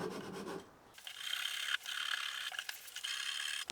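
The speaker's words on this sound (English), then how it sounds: "now I will file lengthways to try and flatten out that face all along the curve" A rasping file strokes lengthways along the curved wooden binding face of a guitar, steady close rubbing passes repeating with brief breaks, alone.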